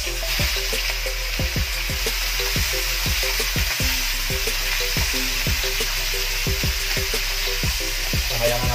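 Chicken liver and gizzard fry in a pan with garlic and onion for adobo, giving a steady loud sizzle broken by regular scraping and stirring knocks, with no talking.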